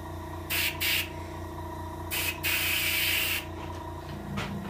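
An airbrush sprays paint onto a hybrid striped bass being finished for taxidermy, giving several short hissing bursts followed by one longer steady hiss, close by over a low background hum, with no talking.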